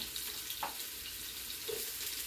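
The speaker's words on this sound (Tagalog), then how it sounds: "At haluin natin ang aking onion." Onions stirred as they fry in a pan, a faint steady sizzle with a couple of soft scraping stirs, alone and fairly quiet.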